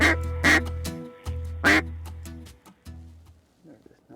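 Ducks quack at a hunting spot in Mound City, Missouri: a run of loud, close, nasal calls in uneven bursts, tapering to fainter quacks at the end.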